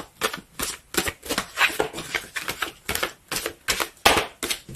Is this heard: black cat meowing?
no